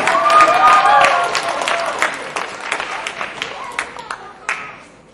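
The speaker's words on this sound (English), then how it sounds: "Big round of applause for Claudius, please" A crowd applauds a pianist named Claudius at a Black History Month event. The clapping is full and loud at first, then thins into scattered claps, with voices and a few cheers mixed in.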